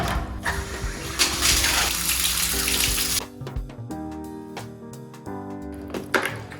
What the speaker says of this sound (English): I've taken the hose from the overflow of the next valve to flush through the hot water pipe so we can push the residue out